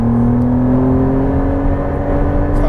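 McLaren Artura at full throttle on a circuit, a loud, steady engine roar with a rising tone held throughout, close and continuous.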